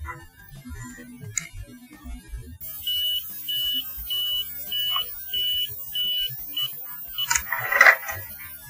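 A parakeet pecks a panel in sync with a run of evenly spaced electronic beeps. Six or more short, clear tones repeat at a steady rhythm over faint tapping and background noise.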